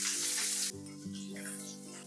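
Chopped onion goes into garlic already browned in hot oil. A bright burst of sizzling starts things off, then eases into a softer, steady frying crackle over the next second or so.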